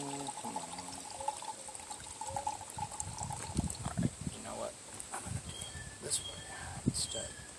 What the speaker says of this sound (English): I'm going to drain off sodium chloride solution